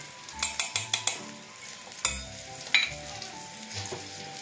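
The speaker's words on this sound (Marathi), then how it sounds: "जोपर्यंत आपल्या मिरच्या परतत आहेत" Green chillies frying in a pan for homemade kadhi, with sharp sizzles and crackles and a few quick spatula or utensil clicks at close range, quiet and without talk.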